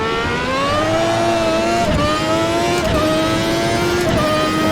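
A 1991 Formula 1 car engine in a racing game, revving hard and steadily under throttle with a loud, high-pitched whine that rises smoothly and dips briefly at gear shifts, close and continuous.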